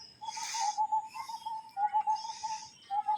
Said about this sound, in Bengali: এই যে দেখেন পাখির ডাক শুনতেছেন